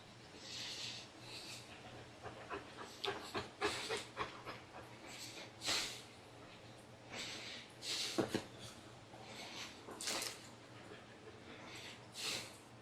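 A dog pants close by in a garden, a fast string of breathy huffs and snorts recurring in bursts over a steady low hum, fairly faint overall.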